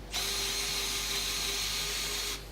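A G5 drill jig bores a 16mm counterbore: a steady, close power-drill whine starts abruptly, runs evenly for about two seconds, then cuts off.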